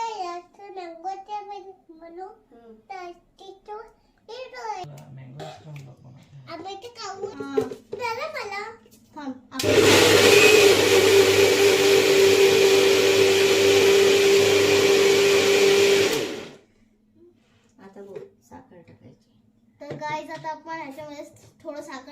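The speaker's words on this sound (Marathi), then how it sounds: "नंतर मिक्सर मध्ये लावणार" A kitchen mixer blends mango ice cream ingredients with milk and sugar, whirring loudly and steadily for about six seconds before stopping abruptly. Children chatter before and after it runs.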